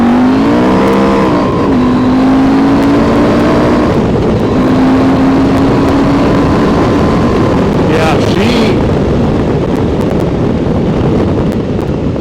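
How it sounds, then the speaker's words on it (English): A Husqvarna Norden 901 Expedition motorcycle engine climbs in pitch under throttle on a winter ride, loud and continuous with heavy wind roar over the microphone. "And this bike, just watch the power of this thing."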